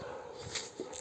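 A dog whimpers softly during a walk near Lumle in Nepal, a few faint high whines over a steady low background hiss, quiet and close.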